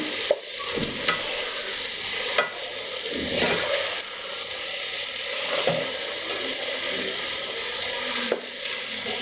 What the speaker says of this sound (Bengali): এখন এটাকে ঘির মাঝে শুধু ভেজে নিতে হবে।